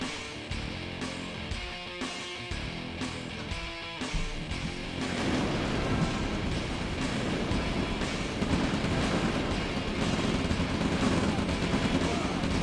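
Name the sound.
artillery fire in OpenRA real-time strategy video game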